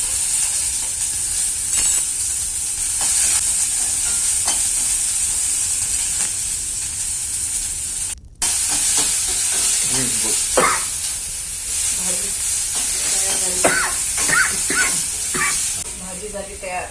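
Chopped onion frying in a pan with green chili, a steady bright sizzle and hiss running throughout, broken by scraping stirs and brief clinks of a spoon, with a short dropout midway.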